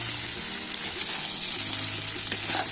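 Duck meat frying in a pan for a home-style Assamese duck curry, giving a steady, close, dense sizzling hiss that runs without a break and with no voices.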